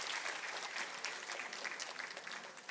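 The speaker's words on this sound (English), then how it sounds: "So give a huge round of applause to all those organizers" An indoor tech conference keynote audience claps for the event organizers, a dense, quiet patter of many hands lasting a few seconds without a clear break.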